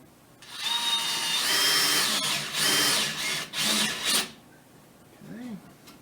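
A power drill whirs through an oak drawer in a home workshop, running in a few bursts of high whine before stopping, followed by quieter handling noise.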